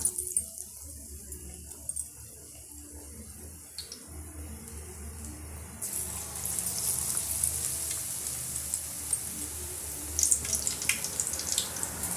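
Plantain bajji, battered raw plantain slices, frying in hot oil with a steady close sizzle that grows louder and busier partway through, crackling alone without speech.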